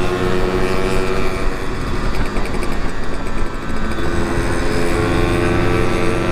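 A loud two-stroke motorcycle engine, an RX King, revs hard and steadily close by on a busy road, with a sustained buzzing drone and no speech.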